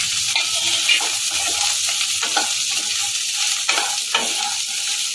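Cashew nuts stirred in a nearly dry wok over very low gas, giving a steady scraping rustle with a few sharper clacks of the spoon against the metal. No one speaks.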